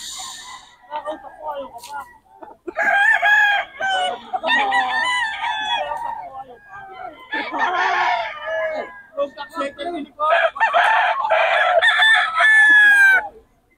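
Roosters crow repeatedly at the Bocaue tiangge market, with several long, loud, close crows in overlapping bursts, clucking from other fowl, and people talking nearby.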